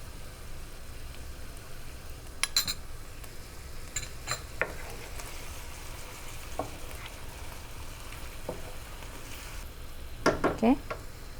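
Beef with spices frying in a pan and being stirred, a steady soft sizzle with a few scraping spoon strokes against the pan, heard close and moderately quiet.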